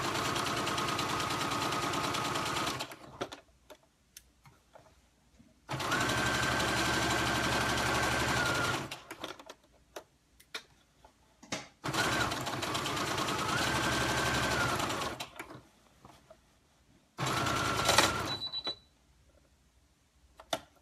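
A sewing machine stitches a skirt hem in three long whirring runs separated by pauses with small clicks and handling sounds, the motor pitch rising steadily within each burst.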